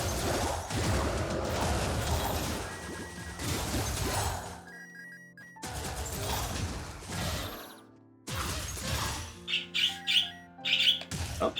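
Birds chirp in an early-morning outdoor scene of the action game Wizard of Legend, bright tweets breaking through bursts of crashing and whooshing spell effects, with brief quiet gaps and a cluster of quick calls near the end.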